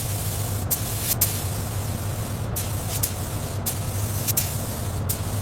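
Steady spray-paint hiss as a toy Lightning McQueen car's curved body is sprayed during a rust-to-rebuild restoration, continuous and close, punctuated by a few brief sharper bursts.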